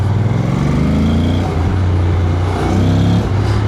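A motorcycle engine revs under load while riding, pulling from low revs with a loud, close harmonic drone that rises in pitch, dips and climbs again over a few seconds.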